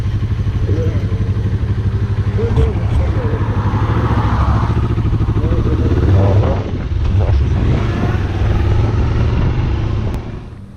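A motorcycle engine drones loud and close throughout a road trip from Zagreb along the coast, steady with slight revving swells, while riders talk over it.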